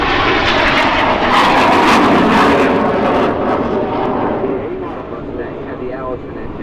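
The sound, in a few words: P-51 Mustang aircraft with liquid-cooled engine flying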